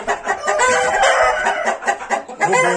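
An Indian rooster, a tall breed of fowl, crows and clucks in a close, loud stretch of repeated calls with no talking over it.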